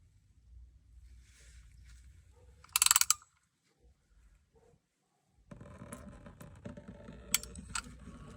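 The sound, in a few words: removing the oil filter on a 2023 Jeep Wrangler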